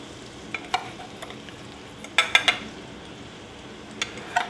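Battered pieces par-frying in hot oil, a steady bubbling sizzle running throughout with a few sharp clinks and scrapes of a utensil against the pan, no talking.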